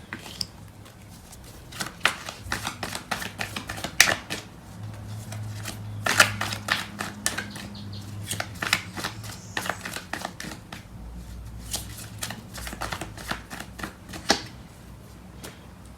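Tarot cards are shuffled by hand in a series of crisp, riffling bursts and soft slaps, close and fairly quiet, with short pauses between shuffles and no talking.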